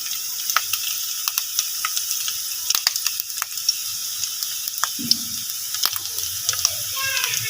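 Hot oil sizzles and crackles in a pan while tempering saag greens, with scattered sharp pops and a brief stir partway through.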